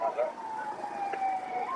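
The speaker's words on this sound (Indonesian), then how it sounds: "Ya, datang juga ambulan dari sisi kanan." An ambulance siren wails on Jalan Gubeng, a main city street in Surabaya, rising and falling steadily as the vehicle approaches from the right, fairly loud over street noise.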